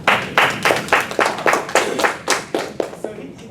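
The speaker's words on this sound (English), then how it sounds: "Let's give him a clap for that." Students in an economics lecture clap for a classmate, a loose run of about a dozen distinct, fairly close hand claps with an uneven rhythm that thins out toward the end.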